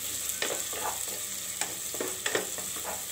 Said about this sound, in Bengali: আর এখানে আমি জিরা দিয়ে দিব অল্প। তো দেওয়ার পর এগুলো আমি ভালো করে ভেজে নিব।